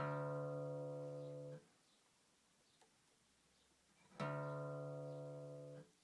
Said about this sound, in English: tune your guitar to open D tuning. So that sounds like this.